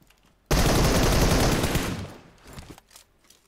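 Gunfire in the mobile battle royale game PUBG Mobile: a sudden loud, dense burst of shots lasting about a second and a half, fading into quieter scattered game noise.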